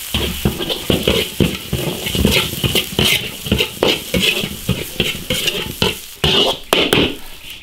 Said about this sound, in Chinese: 小火慢慢炒，炒香，